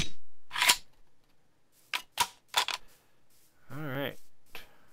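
Several sharp, short game gunshots crack out in quick succession in a Minecraft-style modded survival game, interspersed with a brief burst of talking and a short electronic warble.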